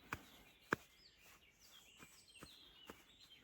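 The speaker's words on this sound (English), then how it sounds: "You can hear the birds singing me" Faint birdsong in a quiet outdoor spot in Spain: a few sharp chirps and thin rising whistles scattered sparsely over low background hiss.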